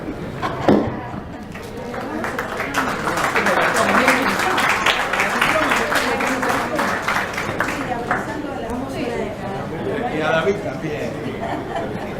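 An audience at a book fair lecture and poetry reading claps steadily for several seconds, dense applause with some chatter and a few laughs mixed in.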